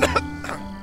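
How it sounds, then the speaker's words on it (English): A cartoon character gives two quick, close coughs, followed by a short voiced throat sound. "You should really do something about that cough."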